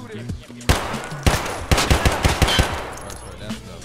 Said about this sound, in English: No way you're actually shooting me.